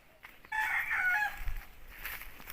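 A single rooster crows once, fairly close and clear, a drawn-out call that fades into quiet farmyard background.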